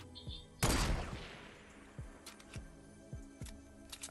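A single loud sniper rifle shot in Fortnite Battle Royale cracks out and rings into a long decaying tail, followed by fainter clicks and distant pops from the game.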